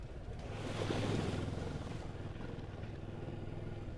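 A Moto Morini X Cape 650 motorcycle splashes through a backcountry water crossing, a broad rush of churning water and engine drone swelling early then settling into steady wash with wind buffeting the microphone.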